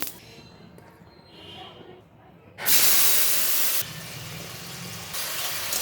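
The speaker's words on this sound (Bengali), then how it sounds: "মাছ ভাজা তুলে নিলাম একটু জিরা ফোড়ন দিলাম" Cumin seeds tempered in hot oil after frying fish, a quiet stretch breaking into a loud, steady sizzling hiss that eases slightly and then swells again near the end.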